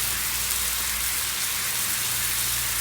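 Frozen fish fillets sizzling in a pan, a steady, even hiss of frying moisture with no pauses, close and fairly loud throughout.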